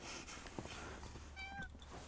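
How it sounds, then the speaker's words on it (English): A cat gives a single short, faint meow over a quiet background hiss. "Usually when I put my cats in the box, they're like, meow, meow"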